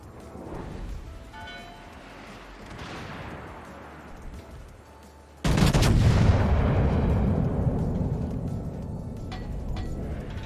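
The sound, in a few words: battleship guns firing in World of Warships video game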